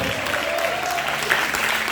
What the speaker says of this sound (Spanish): ¿Cuántos aplaudan fuerte?